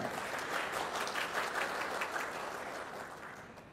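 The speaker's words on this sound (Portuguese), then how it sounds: "Vamos dar uma salva de palmas, doutora Arlete Mesquita." A seated audience at a formal solemn award session applauds steadily, a dense wash of many hands clapping that holds evenly and tapers slightly at the end, with no voices over it.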